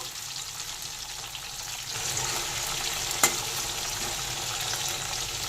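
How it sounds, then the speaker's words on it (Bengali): Cumin seeds, bay leaf and dried red chilli crackle and sizzle in hot oil as a steady frying hiss, with one sharp clink of a stirring spoon against the pan midway. "ওখানে ফোড়ন দিয়ে দিলাম জিরে, তেজপাতা, শুকনো লঙ্কা। ফোড়ন সামান্য একটু নেড়ে নেব।"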